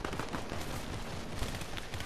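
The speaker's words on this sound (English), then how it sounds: "I hear shooting to my left" Continuous dense gunfire in a video game, rapid overlapping shots and bursts that suggest several weapons firing at once, loud and sustained with no talk.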